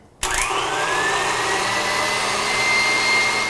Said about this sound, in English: Drop your egg white and lemon juice into the stand mixer and mix on medium-high